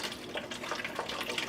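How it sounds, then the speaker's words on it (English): Homemade ginger root soda pours from a container into a repurposed Coke bottle, a steady soft trickle of liquid, faint and continuous with no talking. "I'm just going to pour off some of this"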